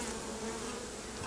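Bees swarming all over a top bar hive during comb work, a continuous low, even buzzing drone filling the background with no voices.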